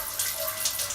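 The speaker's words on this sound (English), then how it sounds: "turning on of the tap, checking for leaks" Water running steadily from a tap during a leak check after storm and water damage repairs, a continuous close hiss with slight surges, no talk over it.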